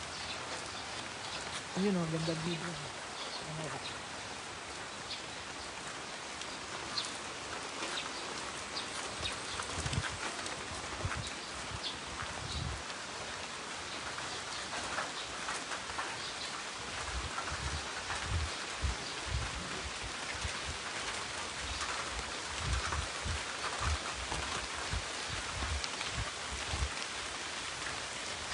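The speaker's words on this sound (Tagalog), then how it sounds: "Lumalakas ang ulan!" Heavy rain pours steadily at a resort in Mabitac, Laguna, a dense continuous hiss with scattered heavier drips and patters, while people talk briefly near the start.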